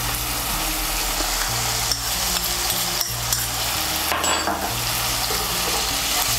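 Tomato paste stirred into hot oil in a pan while cooking Bengali kofta curry, a steady loud sizzle with scraping stirring strokes running throughout, no voices.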